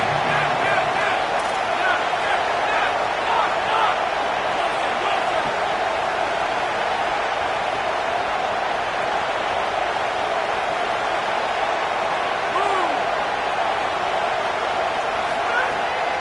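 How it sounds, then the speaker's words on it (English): A loud, dense crowd roar fills a large stadium at an American football game, sustained and steady throughout, with a broad wash of cheering and no quiet moments. "Listen to this crowd just shaking the girders of this place trying to help their defense"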